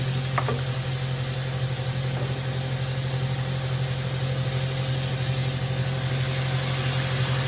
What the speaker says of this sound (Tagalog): tapos ito, lagyan natin siya ng tubig